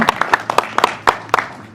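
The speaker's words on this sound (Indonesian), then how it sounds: "kasih tepuk tangannya dulu boleh" Brief scattered clapping from a small audience at a press conference for a community boxing tournament, a few separate hand claps rather than sustained applause, with no voices over it.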